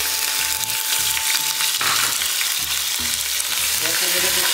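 Ginger garlic paste fries in a pan with loud, steady sizzling and crackle close up, with intermittent stirring scrapes and no voices.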